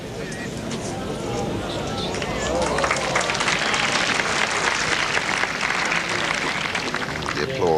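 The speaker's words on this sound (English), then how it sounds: "The applause," Crowd applause at a 1983 Rhyl pairs bowls final, steady clapping from spectators that swells midway and carries on under a commentator's talk.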